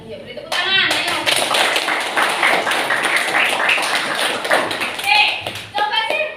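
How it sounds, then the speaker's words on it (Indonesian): Students in a chemistry class on alkene isomers break into a burst of hand clapping for a classmate, brisk, close and lively, with a teacher's voice talking over it. "Beri tepuk tangan ayo."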